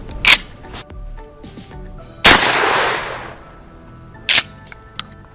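A Mossberg 500 pump shotgun fires buckshot at an outdoor range: three loud, sharp blasts spaced a couple of seconds apart, the middle one with a long rumbling tail, plus faint clicks of handling in between.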